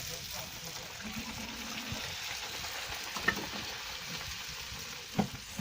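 Dough frying in hot oil, a steady soft sizzle and bubbling at moderate distance, with a few small clinks and people talking quietly nearby.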